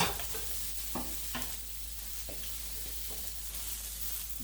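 Shrimp stir fry sizzling in a hot pan, a steady frying hiss with scraping and stirring clatters breaking through at intervals, close and constant with no talk.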